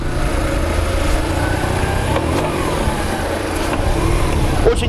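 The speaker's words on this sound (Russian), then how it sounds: "Хороший оборотистый двигатель." A BMW R1150RT motorcycle engine runs at steady revs close by, a continuous low rumble with mild rises in pitch and no talk over it.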